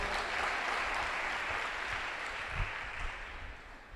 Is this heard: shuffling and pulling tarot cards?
no